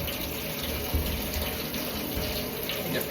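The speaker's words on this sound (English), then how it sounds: "Just rinsed my plate off." Running tap water splashes steadily into a kitchen sink as a plate is rinsed, a loud, continuous close-up gush with no pauses.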